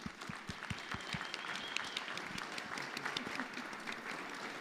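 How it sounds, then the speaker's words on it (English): An audience at a startup talk gives a speaker a full round of applause, dense and steady throughout. "huge round of applause for Neil."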